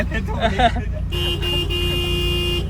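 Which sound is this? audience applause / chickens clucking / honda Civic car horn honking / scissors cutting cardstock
honda Civic car horn honking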